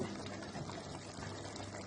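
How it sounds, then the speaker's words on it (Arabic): Two cups of boiling water pour into a pot of rice for Egyptian spiced rice, a soft steady rush and bubbling heard faintly and close up. "كوبايتين بس من الميه المغليه"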